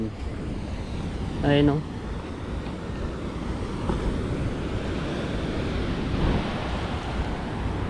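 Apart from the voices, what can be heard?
ocean waves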